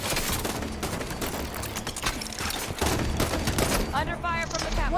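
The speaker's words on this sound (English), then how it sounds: "Under fire from the catwalk." Dense gunfire from a Halo 5: Guardians firefight, steady overlapping bursts and rapid shots running through the whole stretch with mechanical clatter, loud and close, with voices calling out underneath.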